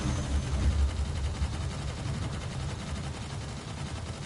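Turret fire in the space shooter EVE: Gunjack VR, a steady, low, muffled rumble of rapid shots throughout, fairly faint and without talk.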